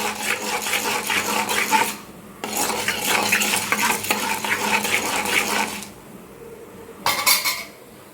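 Chana dal fries in a pan until golden, with a metal spoon stirring and scraping in repeated bursts over a soft sizzle, separated by brief pauses.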